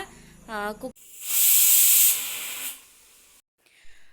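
A kitchen pressure cooker whistle sounds once as a loud, steady steam hiss lasting well over a second, with brief talk just before and a quieter hiss trailing after.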